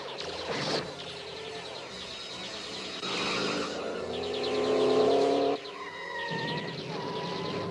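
A cartoon car speeding away from pursuing robots in an animated Transformers episode, its engine droning and swelling in pitch as it accelerates, with a sharp burst near the start and chirpy effects toward the end.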